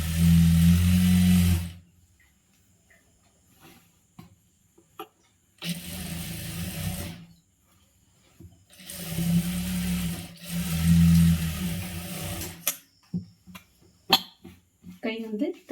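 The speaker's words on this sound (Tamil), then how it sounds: "இன்னொரு தையல் போட்டுக்கலாம்." A sewing machine stitching a churidar runs in several separate bursts of a few seconds each, with quiet pauses between, while a voice talks.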